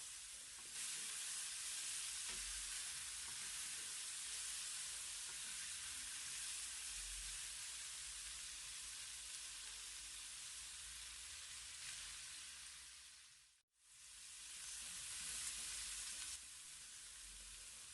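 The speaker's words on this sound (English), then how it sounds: "I'm going to add my carrots here and also mix them well" Carrots are stirred into onions and githeri frying in a pan, filling the air with a steady, close sizzle and hiss that barely changes, apart from a sudden brief dropout near the end before the frying noise resumes.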